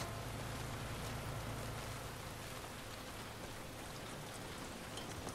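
Steady rain from The Last of Us Part II, a dense, even hiss of falling drops on surfaces that holds at a constant level throughout with no voices.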